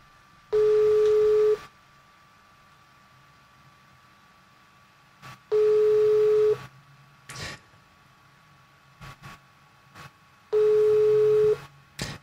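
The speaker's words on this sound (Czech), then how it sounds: "Chviličku vydržte, já mu zkusím zavolat přes obyčejný telefon." An ordinary telephone gives a ringback tone while a call goes unanswered: three evenly spaced steady tones, each about a second long, separated by long quiet gaps.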